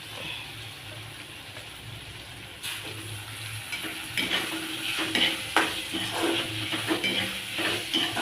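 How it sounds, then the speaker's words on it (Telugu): Tomatoes and onions fry in a pan for veg korma, a continuous sizzle broken by scraping stirs that grows louder and busier partway through. "ఇప్పుడు ఈ టమాటాలు, ఆనియన్స్ బాగా ఫ్రై అయిపోయినాయి"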